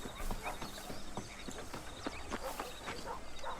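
Horse hooves clip-clopping at a walk in Red Dead Redemption, a run of close, distinct hoof strikes in an uneven rhythm over quiet ambience, with no speech.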